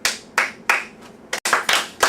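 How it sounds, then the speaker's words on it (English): A series of sharp hand claps, about eight in quick uneven rhythm, close and clear with no talking. "Now, how about I clap and you copy me?"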